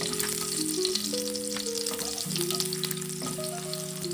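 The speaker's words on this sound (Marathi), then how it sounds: "आता मी टाकणार आहे जिरा आणि लसूण चांगलं परतवून घ्या" Cumin and garlic fry in hot oil for a spicy methi bhaji, a steady crackling sizzle with a few stir scrapes, close and loud throughout, while steady tonal hum lines run beneath.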